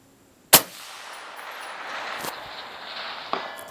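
A rifle shot at a steel target 700 yards out: one sharp, loud report, then a faint metallic ring from the distant impact as the sound dies away.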